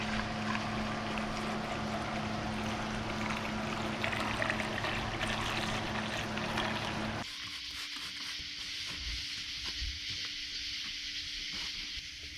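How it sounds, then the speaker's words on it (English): 50/50 antifreeze pouring into the radiator of a Nissan Hardbody mini truck makes a continuous close rushing flow that shifts to a thinner, hissier trickle about halfway through. "Right now it's time to just fill her up with some 50/50, the antifreeze."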